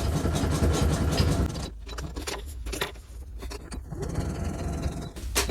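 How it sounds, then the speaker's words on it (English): Sewing machine running a zigzag stitch on a tote bag at stitch length 1.8, a steady close mechanical whirr for most of the clip with a brief drop near the middle. "do a zigzag stitch"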